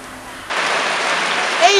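Rain suddenly starts falling outdoors, a loud, even, broadband hiss that begins abruptly and holds steady, with voices faintly present around it.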